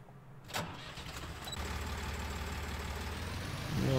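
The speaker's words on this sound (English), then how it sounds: "Tractor is over here that we're gonna use." Tractor engine in Farming Simulator 19, a low steady mechanical drone that rises after a brief knock and holds at a constant idle, fairly faint and close, with no talking over it.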